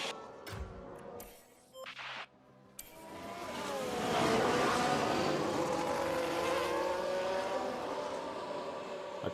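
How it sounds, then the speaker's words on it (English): Ferrari Formula 1 cars enter the pits in F1 Manager 22, with a high engine whine rising and shifting pitch, tyre noise and a steady loud drone after a few choppy bursts of sound at the start. "both the Ferraris coming into the pits"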